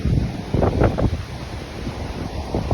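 Gusty wind buffets the microphone outdoors in South Bend, Indiana, as a tornado seems possible, loud rumbling surges with a few stronger blasts over a steady roar.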